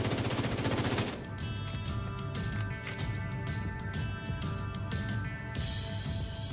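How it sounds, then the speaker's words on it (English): Sustained minigun fire in the shooter game The Division 2, a dense, unbroken mechanical roar of rapid shots lasting several seconds, loud and close, with the tone shifting briefly near the end. "I'm on the minigun. Cover me."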